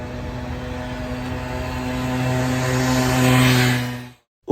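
A Honda Zook 50cc scooter engine drones steadily at full throttle on a top speed run, a loud, even buzz with strong harmonics that swells slightly near the end before cutting off abruptly.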